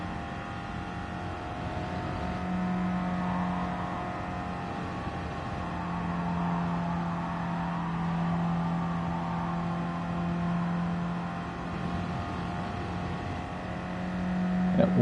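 A 2014 Honda Fit Hybrid engine drones steadily on the final lap of a race, a constant humming tone at moderate volume that swells slightly near the end.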